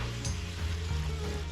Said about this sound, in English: We've got our spinach cooking alongside it.